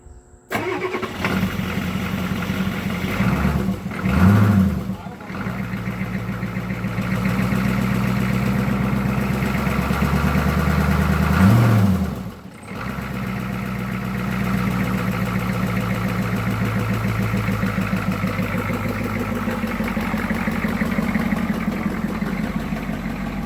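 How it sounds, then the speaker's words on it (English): A 1985 Ford F250 4x4 with a 6.9 IDI diesel and cracked injector lines cranks over with a couple of bursts, catches, and settles into a loud, steady, knocking diesel idle, close by and with no talk. "Now we're going to turn it over and see if we can get some fuel come out of these cracked injector lines"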